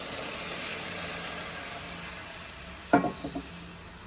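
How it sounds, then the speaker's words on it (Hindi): Hot sugar syrup poured into semolina halwa, a steady hiss of frying and steam that ends with a sharp sizzling burst and a few quick spluttering pops. "ध्यान से हम इसके अंदर शीरे को डालेंगे, बहुत ध्यान से डालना, बहुत गर्म होता है"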